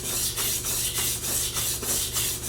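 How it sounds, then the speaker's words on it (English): A knife blade is stroked back and forth on a sharpening stone to raise a burr, giving rhythmic, close scraping swishes about every third of a second. "Now we're going to sharpen the tip."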